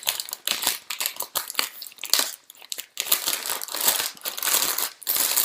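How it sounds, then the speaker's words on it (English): A plastic sandwich bag crinkles and crackles in close, irregular bursts as a camera body is pushed inside it, busy rustling with short pauses and no talk. "I would then sleeve the whole body through this sandwich bag. So I'm going to put my camera inside."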